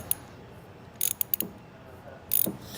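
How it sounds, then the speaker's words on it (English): A wrench tightens a 1/4 inch lock nut on a B and W Companion OEM 5th wheel hitch being fitted to a 2023 Chevrolet truck. It gives a few short metallic ratcheting clicks in two quick bursts against quiet background. "thread on our 1/4 inch lock nut, hand tight, and then get it tightened down with your tools"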